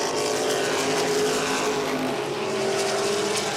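Modified race cars at Langley Speedway, a loud sustained engine roar with steady whining tones as the cars run down the back straightaway, constant and close.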